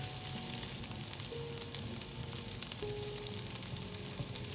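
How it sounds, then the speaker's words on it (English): Char siu pork sautés in hot oil in a pan over medium-high heat, a steady, moderately faint sizzle with light crackles and occasional stirring, without any talk. "Heat the pan over medium-high heat and add some oil. Add the char siu and sauté for about 1 minute"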